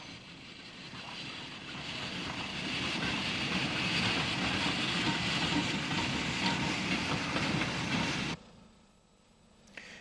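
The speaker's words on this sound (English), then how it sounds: "A goods from Killybegs to Sonora crosses Inver Bridge." A goods train from Killybegs, hauled by locomotive number 5 Drumbo, crosses Inver Bridge on an Irish narrow-gauge line in the 1950s, making a steady rumbling roar with wind noise. The sound drops off sharply near the end.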